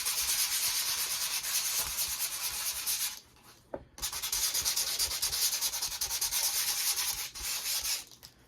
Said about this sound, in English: this is just a rough, coarse sandpaper, like a 60 weight